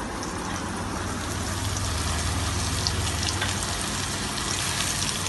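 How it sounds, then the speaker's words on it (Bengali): Onions frying in a pan for a Bengali-style fish curry with radish and potato, a steady close hiss and sizzle that runs unbroken throughout with no voices. "একটু ভাজা ভাজা হলে পরে পেঁয়াজটা দিয়ে দেবো"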